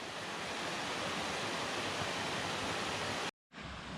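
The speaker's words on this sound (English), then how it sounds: "Beautiful waterfall." A rock slide waterfall in Grandfather Mountain State Park, North Carolina, roars in a constant, dense rush of water, close and steady, with a brief cut to silence near the end.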